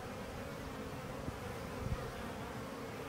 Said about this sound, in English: seem to have got a bee's nest within the structure of the building